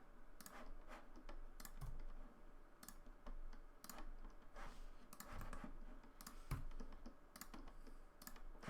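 Keys on a computer keyboard are pressed in quick irregular bursts of close, crisp taps during 3D modelling work, with no talking.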